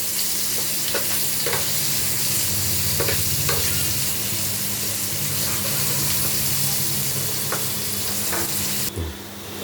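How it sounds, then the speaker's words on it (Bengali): Potatoes frying with salt and turmeric, a dense steady sizzle of oil throughout with occasional soft stirring knocks and a brief clatter near the end. "আলুগুলো একটু ভালো করে লাল লাল করে ভেজে নেব আমি"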